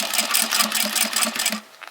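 A sewing machine runs a quick, steady stitching rhythm at close range while back stitching a leather key fob bracelet, then stops near the end.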